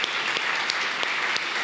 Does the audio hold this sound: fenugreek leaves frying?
no